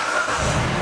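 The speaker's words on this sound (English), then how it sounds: "Let's start the engine and see what we get." A car engine running just after being started for an in-cylinder pressure test. It makes a steady, loud, close mechanical roar with no voices.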